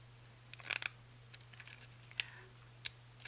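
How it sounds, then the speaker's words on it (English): Scissors snip through fabric at a sewing table during pocket making, a quiet run of short crisp cuts, closely miked, with no talking. "I'm just cutting off this end"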